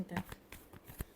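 Tarot cards are shuffled by hand in a quick, brief run of soft papery flicks and taps, ending in a sharper snap as the deck settles.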